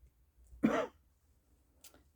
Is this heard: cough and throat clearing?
yes